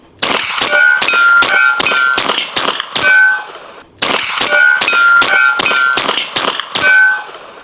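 A BinTac T9 4500psi PCP air pistol fires two rapid strings of sharp, metallic cracks, eight or so shots in each, loud and close with a ringing clang after each report and a short pause between strings.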